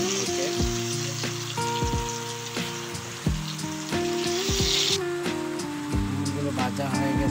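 Eggplant pieces frying in hot oil, a continuous crackling sizzle with scattered pops, steady and close, with a voice heard speaking over it.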